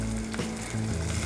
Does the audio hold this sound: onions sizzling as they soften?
yes